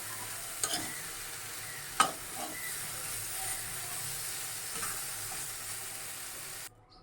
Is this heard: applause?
no